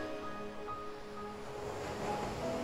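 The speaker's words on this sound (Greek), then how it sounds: "Να ακούς τα κύματα να σκάνε στην ακτή." Ocean waves wash steadily against a shore, a continuous broad rush of surf that swells slightly toward the end, with faint tonal hum in the background and no voices.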